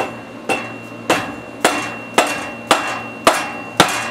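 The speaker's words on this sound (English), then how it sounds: "Get a soft hammer here and give it a couple of knocks." Seven evenly spaced knocks from a soft hammer striking the oil sump of a Honda-clone generator engine, each a sharp, close thud with a short ring, over a faint steady hum.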